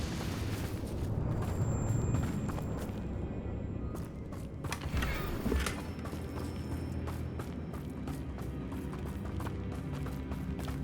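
Confringo blasting curse explosions in Hogwarts Legacy: a booming burst that rumbles and fades, followed by a run of sharp, rhythmic impacts and rapid footsteps-like clicks, loud and close.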